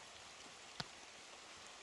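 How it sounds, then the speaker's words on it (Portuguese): Rain falling on a river where people are fishing, a steady soft hiss of drops on the water with one brief sharp tap partway through, heard alone without voices. "Só pra cá no rio onde nós tá pescando tá chovendo."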